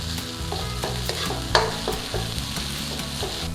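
Thai curry paste fries in a pan ahead of the coconut milk for a pork and winter melon curry, giving a close, steady crackling sizzle with rhythmic stirring scrapes and one sharp clink, with no voices.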